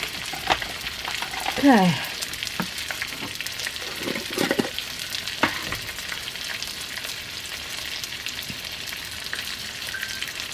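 Pork and onion stir fry sizzling in a pan, a steady broadband hiss with scattered clatter of stirring, moderately close, with a brief spoken word early on.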